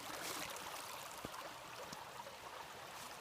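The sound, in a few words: water flow of a stream at trail base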